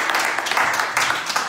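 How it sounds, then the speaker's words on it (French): A church congregation breaks into applause, a brief, loud, dense patter of clapping close by. "Est-ce que je peux applaudir pour cela aussi?"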